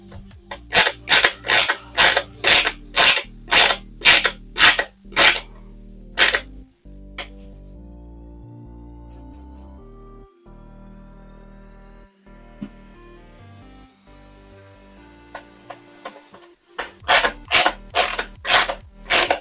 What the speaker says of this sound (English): now we'll just insert the screws into the back of here